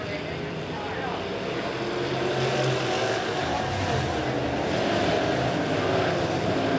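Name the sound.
midwest modified race cars starting a race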